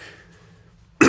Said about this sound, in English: I like went to clear my throat as the joke